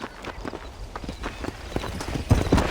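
Horse hooves clip-clop at a gallop in Red Dead Redemption, a steady rapid rhythm of close, moderately loud hoofbeats that swells in the final half second.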